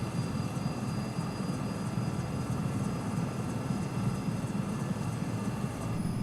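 Skycrane helicopter in Microsoft Flight Simulator 2024 spools up for takeoff with a steady, loud engine and rotor drone and broadband rushing noise that holds throughout without a break, with no voices.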